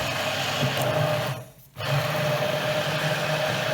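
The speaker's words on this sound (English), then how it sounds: "I'm going to take my blender into the shallots, a little bit of stock, Madeira and my porcini, and blend." An immersion blender whirs steadily through shallots, stock, Madeira and porcini mushrooms, cutting out briefly before starting up again close by.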